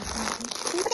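Doll packaging torn open by hand, a brief burst of crinkling, tearing plastic and paper, close and moderately loud.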